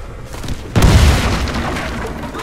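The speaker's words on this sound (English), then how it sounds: "Grenade out!" A grenade goes off in the shooter game Warface, a sudden loud, close boom that rolls into a long decaying rumble, heard alone with no talk.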